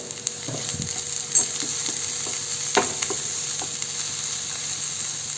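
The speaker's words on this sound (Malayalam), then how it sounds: "അത് ചേർത്ത് കൊടുത്തിട്ട് ഒന്ന് ഇളക്കി യോജിപ്പിക്കാം" Masala being stirred with added salt in a hot pan while making a drumstick-leaf and egg dish, giving a steady close sizzle and frying hiss with a few soft scraping stirs, no voices.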